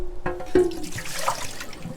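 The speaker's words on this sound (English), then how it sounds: "So I am gonna dump this into the sink" Water from a reverse osmosis filter housing is dumped into a sink in a short, uneven splash and gurgle, with a few clunks of the plastic housing, close and moderately loud.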